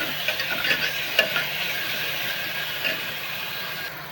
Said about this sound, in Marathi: आता चांगला टोमॅटो मऊ होईपर्यंत परतून घेऊया.